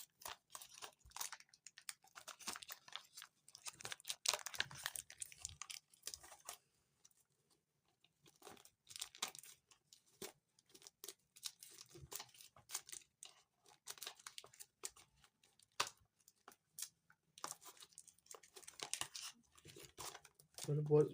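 Packaging of a K8 microphone being opened, quiet close-up crinkling, rustling and tearing in intermittent bursts, with soft handling noises between them.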